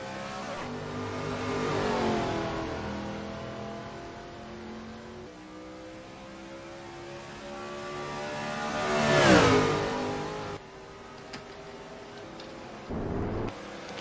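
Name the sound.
race car on track at Charlotte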